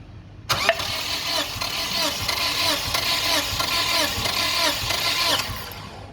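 Toyota Fortuner engine cranking on the starter during a compression test, a steady rhythmic whirring chug of about five seconds, fairly loud and close, with no firing.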